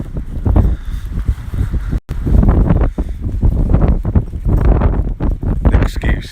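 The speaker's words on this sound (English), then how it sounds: "Blowing a gale." Strong gale-force wind buffets the microphone outdoors on a cold walk, roaring in loud, uneven gusts that barely let up.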